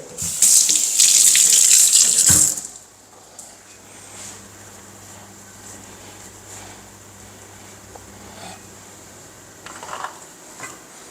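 Tap water runs hard into a sink while coriander stems are washed, a loud rushing stream for about two seconds that then cuts off, leaving quiet kitchen background with a brief splash near the end.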